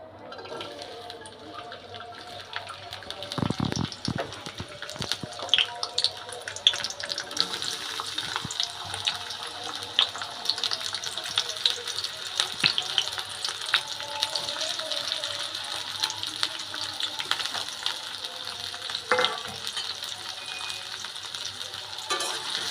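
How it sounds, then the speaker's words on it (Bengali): Chopped onion, garlic, green chillies and two dried chillies hiss and sizzle in hot oil, a continuous crackling fry with a few clatters and a voice speaking at times. "তেলটা একটু গরম হলেই এই তেলের মধ্যে আমি কেটে রাখা আমার পেঁয়াজ, রসুন, কাঁচামরিচ এবং দুটো শুকনো লঙ্কা এগুলো দিয়ে দিব"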